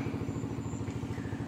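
An engine motor runs a water pump irrigating a farm field, its steady rhythmic chugging pulsing evenly at a moderate, close level with no voices.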